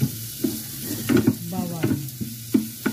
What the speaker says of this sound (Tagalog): tuloy-tuloy ko ng pag-gisa ng sibuyas at saka